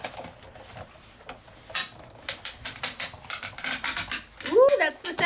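A die-cutting machine pressing a die through heavyweight vellum: after a quieter start, a run of sharp rhythmic clicks and crackling creaks builds, close and fairly loud, with a brief vocal sound near the end.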